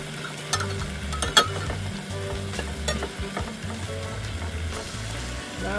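Snapper fish frying in a pan outdoors, a steady close sizzle with stirring and scraping clatter, one sharp utensil knock near the start, no voices.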